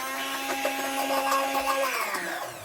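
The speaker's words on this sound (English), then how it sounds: "Regular blender works too, but I got the fancy dancy equipment, so I'm gonna use it." High-powered blender whirring steadily as it blends wild blueberries, a continuous loud motor hum with a sustained tone and slight shifts in pitch as the fruit breaks down, heard alone at close range.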